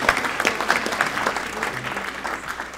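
Applause from an audience at an energy startup pitch event, a moderate burst of many hands clapping that gradually fades, with a few sharper claps near the front and no speech.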